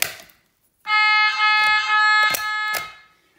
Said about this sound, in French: allume alarme incendie